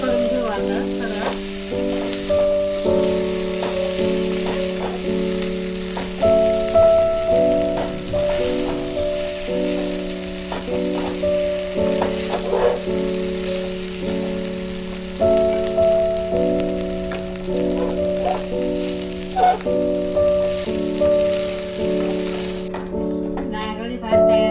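Rice added and mixed into a sizzling pan for Konkani-style coconut rice, steady frying crackle with repeated scraping stirs over a continuous tonal background of music, close and fairly loud throughout.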